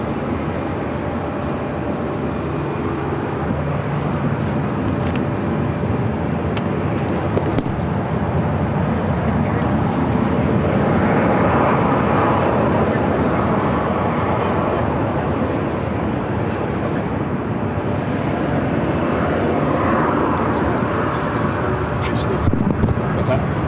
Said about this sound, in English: This is Southwest Flight 3113 coming in from Dallas on a 737-800.